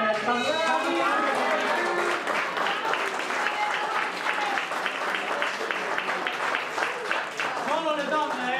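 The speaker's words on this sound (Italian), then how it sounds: "Vi richiedo un ultimo applauso ancora per." Crowd at a village pork festival applauding steadily for several seconds, a thick continuous patter of many hands with voices and cheers mixed in throughout.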